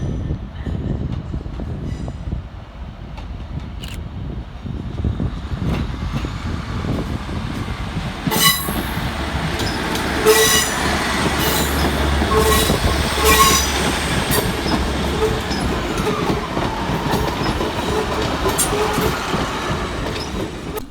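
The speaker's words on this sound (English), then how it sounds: "One in, one out now as 390-006 departs, while 323-230 arrives in the background." At Manchester Piccadilly station, a Class 390 train departs while a Class 323 arrives, with loud rumbling, squealing wheels and clattering rails building midway and holding steady, no voices.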